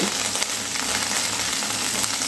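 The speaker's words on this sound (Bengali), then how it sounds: "এবারে সব কিছু একটু ভালো করে ভেজে নিতে হবে।" Dried red chillies, garlic and green chillies fry in hot oil, a steady, loud, close crackling sizzle with no voices.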